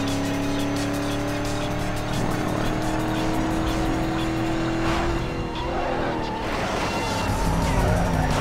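Racing car in a video game skids and slides while its engine drones steadily through traffic, with tire squeals rising over the continuous, close motor sound.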